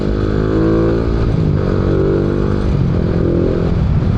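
Rusi Flash 150X motorcycle being ridden, a loud steady engine drone with a buzzy harmonic tone that rises and dips slightly as the throttle shifts, close and continuous throughout.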